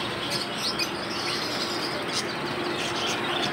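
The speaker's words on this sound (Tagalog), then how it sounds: "ayan tindahan ng mga ibon." Caged birds chirp and tweet at a market bird shop, with busy high calls overlapping steadily throughout amid continuous market background noise.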